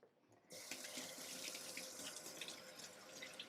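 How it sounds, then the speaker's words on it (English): Water runs from a kitchen tap as hands are rinsed, starting abruptly after a brief quiet moment and then gushing steadily and close. "So let me just rinse my hands."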